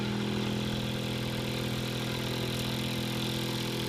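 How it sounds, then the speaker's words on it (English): A Bedini motor wheel spinning up, a continuous steady whirring hum with layered low tones and broadband hiss, constant and fairly faint throughout. "You can see the wheel pick up considerably."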